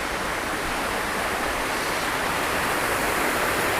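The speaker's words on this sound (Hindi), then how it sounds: "यहाँ से होता हुआ गिरता हुआ आवाज़ करता हुआ नीचे की तरफ चला जा रहा है" A waterfall on a mountain climb, water dropping from near a bridge and falling down rock: a loud, steady, unbroken roar of rushing water, close by and without pauses or voices.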